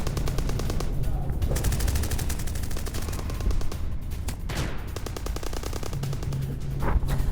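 Gunfire on a military transport convoy in a war zone: rapid bursts of automatic fire with quick repeated cracks, continuous and fairly loud, with a few heavier shots standing out.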